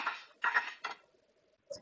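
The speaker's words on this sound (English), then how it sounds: "Sorry, that is the sound of a lot of glass." Glass plates clink and clatter in a kitchen while steak fries are being plated: three quick clusters of glassy knocks, then a brief pause and one last small clink, all fairly quiet and close.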